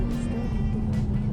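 BMW M2 engine droning steadily at close range while driving on a track, a loud continuous low growl with no speech over it.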